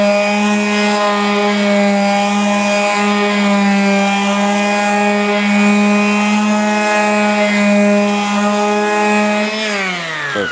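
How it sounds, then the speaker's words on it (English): A steady, loud electric sander hums close by while lightly sanding a wooden chair for refinishing, holding one even whine before winding down at the very end. "So I got my sander."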